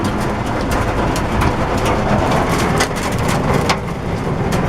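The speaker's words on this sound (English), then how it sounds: "Got a little hail happening." Steady hiss of heavy precipitation with scattered sharp ticks and taps of hail striking surfaces during a Tennessee storm with straight-line winds, loud and continuous throughout.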